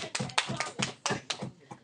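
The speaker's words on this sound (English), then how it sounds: "Clap if you agree with Rebecca." A small group of students clapping in an algebra classroom, several quick separate bursts of hand claps in an uneven rhythm, close and fairly loud, with no talking.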